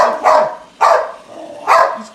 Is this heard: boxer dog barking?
yes